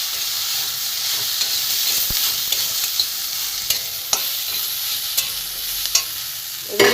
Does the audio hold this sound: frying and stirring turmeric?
yes